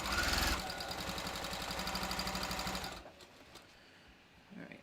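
A sewing machine stitches bathrobe facings in a fast, steady mechanical run that stops partway through, leaving a quiet room with a faint clunk at the end.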